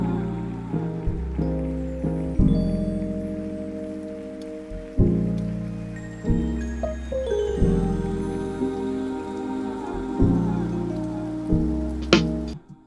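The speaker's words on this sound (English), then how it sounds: "that almost sounds like rain until it registers with you that that's applause" An applause sample woven into a beat being built in Ableton Live 12 gives a steady, rain-like hiss of many claps under repeating bass and synth notes, with no voices.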